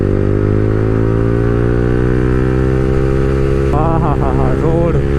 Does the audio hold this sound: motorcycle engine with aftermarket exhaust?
yes